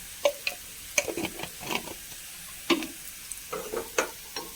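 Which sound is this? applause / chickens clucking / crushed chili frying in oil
crushed chili frying in oil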